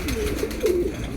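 Breeder pigeons coo softly nearby, a couple of low, warbling calls in quick succession against quiet background noise.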